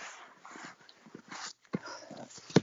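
Dogs whimper indoors in short, soft, high-pitched bursts, a few brief whines and yips scattered across the moment, with one sharper sound near the end.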